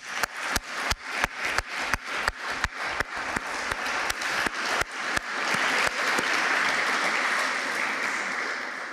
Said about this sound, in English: I think we should at least symbolically applaud Maria and her courage here.